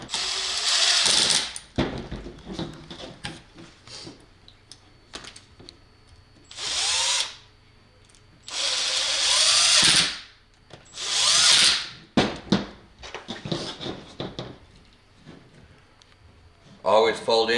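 A power drill driving screws down tight while fitting a 12/3 SOOW cord to a GFCI outlet box, in repeated loud whirring bursts of a few seconds each, close up, with someone talking between them.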